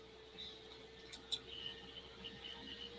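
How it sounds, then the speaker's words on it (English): Faint insect chirps from crickets outdoors at night, a few brief high trills over a quiet background hum. "I can have crickets outside."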